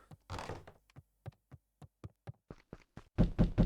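Knocks on a door in the video game Beacon Pines, a series of sharp, evenly spaced raps, fairly close and clear, ending in a few heavier thuds, with no voices.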